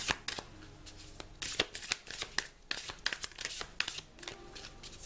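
Large oracle cards are shuffled by hand in a series of quick, crisp riffling bursts and papery slaps, close and fairly quiet, with short pauses between rounds.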